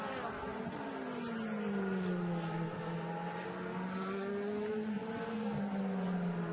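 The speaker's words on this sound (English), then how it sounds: "So Marco Wittmann, as he sparks that BMW around this Lausitzring circuit." DTM race cars, including a BMW, circle the Lausitzring circuit during a 2014 race, a steady engine drone with a pitch that dips and climbs as the cars pass, heard alone at a distance.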